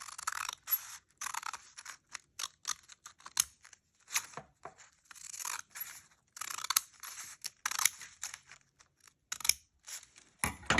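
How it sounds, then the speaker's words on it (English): Scissors snip through folded paper for a paper snowflake: a close, quick run of crisp, dry cuts in short irregular bursts with brief pauses between. "start cutting on where the lines meet the edge here"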